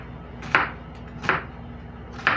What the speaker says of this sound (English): I'm going to cut these up